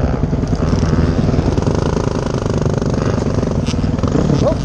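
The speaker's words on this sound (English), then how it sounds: "here we go, second ride on my animal of a bike, the 450X, following Nick" A 450X dirt bike runs continuously and close while being ridden on a trail, its dense rattling engine note holding steady and loud with little variation.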